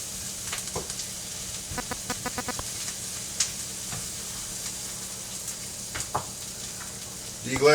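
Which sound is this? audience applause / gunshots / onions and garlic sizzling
onions and garlic sizzling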